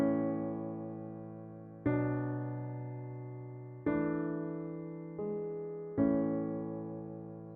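Solo piano plays a slow reduced inner melody from La La Land in 3/4 time. Five sustained chords or notes sound about every two seconds, each decaying gently, with no voices.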